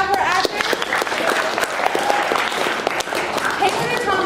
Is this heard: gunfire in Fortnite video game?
no